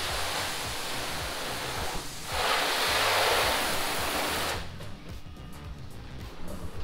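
Water sprays in a steady loud hiss, surging stronger for a couple of seconds before stopping abruptly, leaving quieter dripping and background noise.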